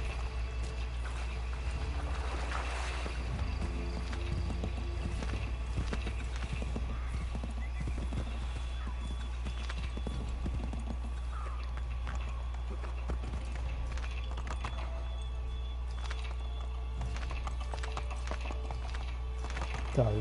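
Horse hooves clip-clopping steadily through a PS4 video game, with whinnies breaking in now and then; a constant low rumble sits underneath and voices talk over parts of it.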